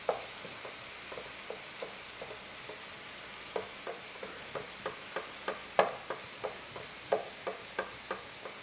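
Ground meat for a tomato meat sauce is broken up with a wooden spatula in a pan over low heat, giving a soft steady sizzle with regular scraping taps and pokes, close and unaccompanied by speech.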